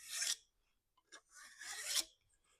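A file rasping burrs off the bar of a Stihl MS 170 chainsaw in two short, close strokes with a faint scrape between them in a quiet setting.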